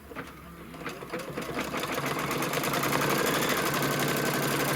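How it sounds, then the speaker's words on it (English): An embroidery machine stitches the placement line for flex foam on a quilt block, a fast rhythmic mechanical chatter that builds and holds steady and loud. "what it's going to do now is stitch the placement line for the flex foam"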